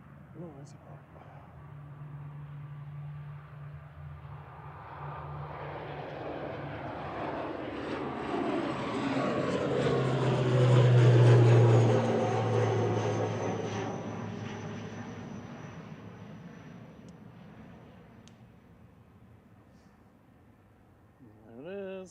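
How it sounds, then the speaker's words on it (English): A propeller plane drones past at Manchester Airport, swelling to a loud, rumbling peak midway before fading away; faint talk sits under the engine. "Noisy prop. Noisy prop."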